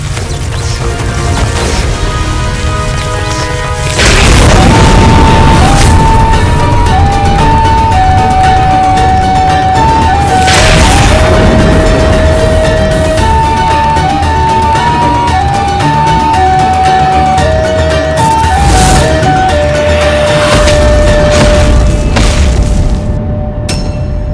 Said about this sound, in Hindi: ये विस्फोट मेरे पुत्र गणेश कार्तिक के सुरक्षित तो है ना?